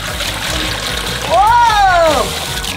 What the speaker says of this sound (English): first let's put the water in there